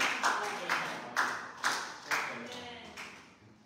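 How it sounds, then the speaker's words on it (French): A church congregation claps in a short burst, several distinct loud claps in an irregular rhythm that fade out, with voices present in the background. "Applaudissez le Seigneur"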